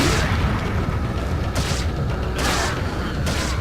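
Dynamite blasts go off in the Resident Evil 4 video game, several heavy booms spaced roughly a second apart over a constant din of game noise.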